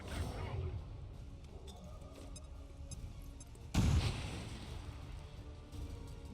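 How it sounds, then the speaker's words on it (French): A grenade detonates in the turn-based strategy game X-COM 2, a single loud broadband boom that hits abruptly and decays over a second, sitting above a steady bed of game ambience and music. "Ah, la puissante explosion attire une nuée d'ombre."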